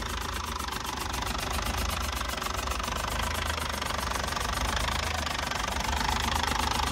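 Yuchai 260 diesel engine, a 191 kW unit in original untouched condition, running steadily on its own with a continuous knocking diesel rumble and hiss at a constant level throughout, no voices.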